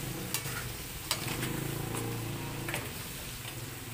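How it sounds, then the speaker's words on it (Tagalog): Seafood (crab, shrimp and squid) fries and sizzles in a pan while being stirred, a steady close hiss broken by a few light clicks and scrapes of the utensil. "Halu-haluin lang natin hanggang mamula-mula siya."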